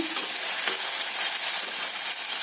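Potatoes frying in a pan while cooking mustard greens (shorsho shaak), giving a steady close sizzle with a bright, hissing crackle that runs evenly throughout, and no talking.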